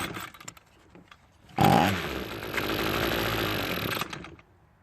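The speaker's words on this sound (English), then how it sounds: "Let's try starting it on some starter fluid and hopefully it runs for us." A Toro string trimmer's small engine starts on starter fluid: a few seconds of quiet handling noise, then it fires abruptly and runs loud and steady for about three seconds before cutting out.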